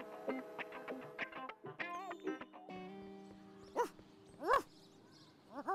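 A small dog yips and barks in short, high bursts, with whimpering in between, fairly close and without talking.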